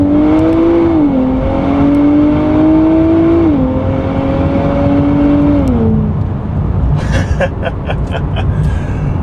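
A 2023 Nissan Z engine drones loudly from inside the cabin, its pitch stepping down as the car downshifts from third into second before the revs swell again under acceleration.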